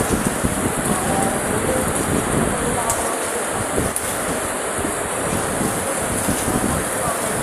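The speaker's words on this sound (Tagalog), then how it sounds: "Lakas ng hangin." Strong wind buffets the microphone in continuous loud rumbling gusts at an outdoor barangay court, with a roaring, rushing noise throughout and no clear speech.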